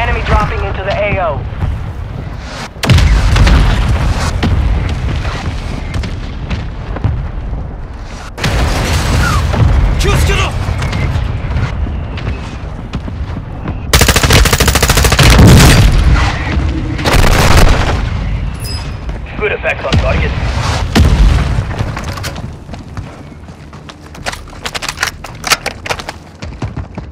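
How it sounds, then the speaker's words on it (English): Loud mortar strike explosions in Call of Duty: Modern Warfare II, several heavy booms landing one after another amid windy battlefield rumble, with voices talking over the blasts. "Mortar strike inbound now."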